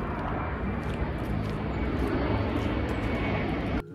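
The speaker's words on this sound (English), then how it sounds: "There's so many planes." Airplane engines drone steadily overhead above a forest, a continuous loud roar that holds for the whole stretch before cutting off abruptly near the end.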